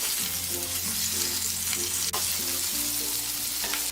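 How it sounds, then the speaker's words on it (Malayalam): Chicken pieces roasting in oil in a pan, a steady close dense sizzle with low bubbling and a brief sharp click midway, with no voices. "ചിക്കൻ ഇവിടെ റോസ്റ്റ് ആയിക്കൊണ്ടിരിക്കുകയാണ്."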